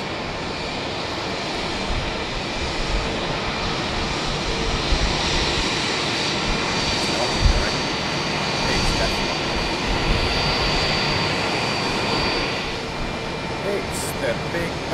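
A British Airways Boeing 777-300 jet flies over at Heathrow in the early morning, a steady loud broadband engine roar that holds throughout with slight swells, heard from fairly near with no clear talk over it.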